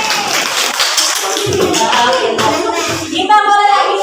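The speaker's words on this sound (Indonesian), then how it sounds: "Tepuk tangan untuk Mas Mimin." Children in a classroom clap their hands during an Islamic religious education lesson, a burst of rapid, overlapping claps mixed with young voices chattering.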